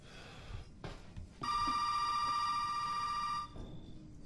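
An old telephone rings inside a house in the horror game Resident Evil 7, one long sustained bell-like tone lasting about two seconds that stops abruptly, with quieter game ambience before and after.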